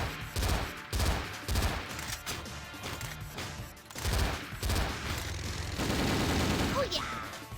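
Gunfire in the PSP game Ghost in the Shell: Stand Alone Complex comes in repeated loud bursts and rattling volleys with impacts and crashes between them, followed by a rising whine near the end.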